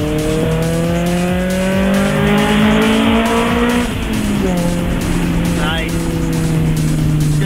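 A turbocharged street car revs hard and pulls up through the gears on a bridge, its loud engine note climbing in steps with brief tire noise, while people talk over it.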